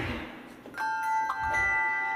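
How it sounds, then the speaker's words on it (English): A mallet strikes a suspended handbell during a church handbell choir demonstration, giving one clear ringing tone that sustains and slowly decays after soft background noise. "Use a mallet on a suspended bell."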